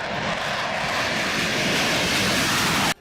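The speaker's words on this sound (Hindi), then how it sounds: "इसके अलावा लड़ाकू विमानों को भी उड़ाया गया।" Military fighter jets roar overhead in a loud, continuous broadband rush that holds steady before cutting off abruptly, with no voices present.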